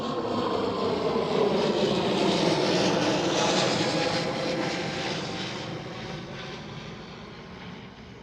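An Air Astana Airbus A321neo airliner at Amsterdam Schiphol gives off a loud, sustained engine roar that slowly fades as it moves away, with no voices present.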